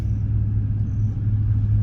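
A 1995 Chevrolet Caprice with a swapped 5.3 LS V8 and headers idles nearby: a steady, loud, low rumble with an even throb and no revving.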